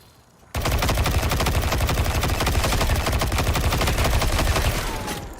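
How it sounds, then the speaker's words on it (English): Sustained automatic gunfire from an auto rifle in Destiny 2: Lightfall, starting abruptly after a brief quiet moment and rattling on loud and steady as a dense, continuous burst with no pauses. "let's try this pulse that I've been trying to do. I haven't used it in forever. And try that auto rifle"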